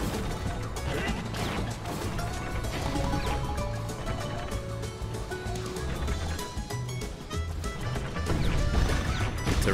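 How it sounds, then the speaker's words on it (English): Crashing and smashing as platforms and structures collapse in the video game Donkey Kong Country: Tropical Freeze, a dense, continuous clatter of impacts layered over game music. "Oh, everything collapsing, things smashing."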